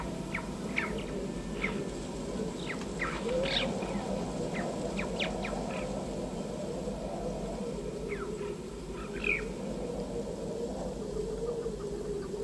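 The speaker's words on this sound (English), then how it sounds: "Using a chirping alarm call, the marmot warns others of danger." A marmot gives short, sharp chirping alarm calls on a high mountain slope in India, scattered bursts over a steady low rumble of wind or ambient noise, fairly distant and modest in level, with no voices.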